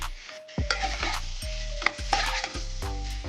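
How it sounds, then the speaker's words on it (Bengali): Ginger paste frying in oil in a pan while a spoon stirs it, with steady sizzling and repeated scraping strokes roughly every half second, close and alone. "এটা রসুন বাটা না, আদা বাটা দিয়ে আমি রান্না করছি এটা।"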